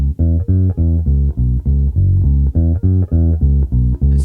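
A bass guitar plays a run of held, sustained low notes in an even rhythm, each note ringing almost into the next with only short gaps, loud and close with no talking.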